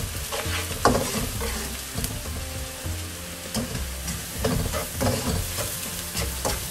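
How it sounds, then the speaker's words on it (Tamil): Onions sizzle and fry with salt in a hot pan for egg curry, a steady close crackle broken by repeated scraping stirs, with no talking. "இப்போ ஆனியன்ஸ் ஆட் பண்ணிக்கலாம் கொஞ்சம் salt ஆட் பண்ணிக்கோங்க"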